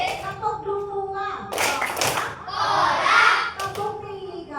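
A classroom of children joins in a clapping chant, sharp bursts of hand claps coming in bunched rhythmic groups, with a teacher's voice leading between and over them.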